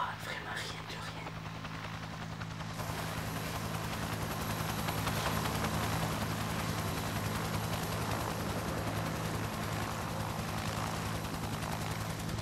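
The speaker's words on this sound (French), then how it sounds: "L'hélicoptère vient nous visiter." A helicopter passes over a small French village, a steady broad engine and rotor drone held at even loudness throughout, with faint background noise and no clear speech.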